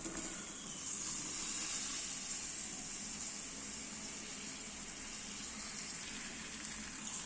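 Fried cauliflower tipped into a pan of sizzling spice masala for gobi korma, giving a steady, even hiss and frying crackle that holds at a constant level throughout, with no voices.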